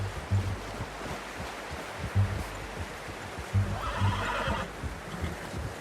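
A horse in Red Dead Redemption 2 whinnies and snorts near a hunting trail, with hoof clops and a steady rushing ambient wash beneath, the whinny rising briefly partway through.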